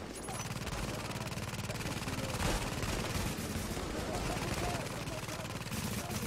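Rapid gunfire during a firefight in the video game The Division, loud and continuous throughout, dense bursts of shots with a heavier burst midway, voices talking under the noise.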